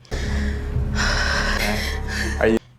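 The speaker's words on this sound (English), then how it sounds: "Mary is breathing so heavily." A nervous woman on a reality show breathes heavily in long, rough, close-up huffs that end in a sharp intake of breath.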